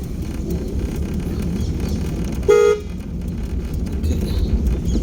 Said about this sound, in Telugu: హార్న్ కొట్టాలి.